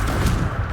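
A Confringo fire spell detonates in Hogwarts Legacy, a short dense boom with crackling, gunfire-like texture packed into under a second.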